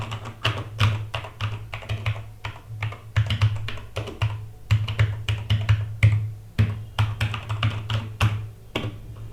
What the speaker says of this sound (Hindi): एक बार इस पर टाइपिंग करके भी देख ही लेते हैं, कुछ ऐसा टाइपिंग एक्सपीरियंस मिलता है।